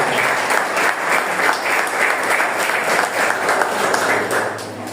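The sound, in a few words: church congregation clapping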